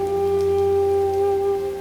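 Steady rain falls in an even, continuous hiss, with a low constant hum beneath it and no voices.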